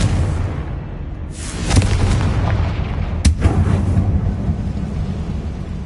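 A fire spell blast erupts in Hogwarts Legacy on PlayStation 5: two booming, rumbling explosions roughly a second and a half apart, set against a loud, continuous rumble.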